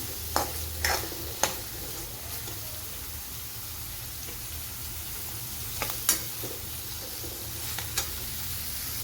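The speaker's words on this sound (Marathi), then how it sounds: "जिरे तडतडले की कांदा घालायचा बसून जो बारीक चिरलेला कांदा आहे तो घातलेला आहे तो छान लालसर असा परतून घ्यायचा" Finely chopped onion sautés in crackling cumin in a pan, a steady close sizzle with occasional sharp pops and stirring scrapes, no voices.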